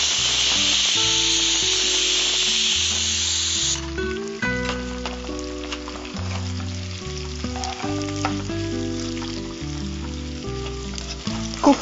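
Ginger garlic paste with dried red chillies frying for spicy chicken, a steady loud sizzle at first, then a busier crackle with stirring, while background music plays throughout.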